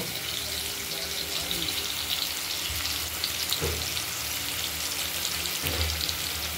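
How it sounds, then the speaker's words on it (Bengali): A steady crackling sizzle of stuffed ash gourd slices frying in hot oil in a wok continues throughout, with occasional soft knocks from a utensil. "আমরা কড়াইতে গরম তেলে এক এক করে ভেজে নেব"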